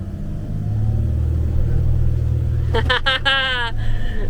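A van's engine rumbles low and steady as it labors up a hill on a rough South American track, revving harder partway through while voices and cheering break in over the motor.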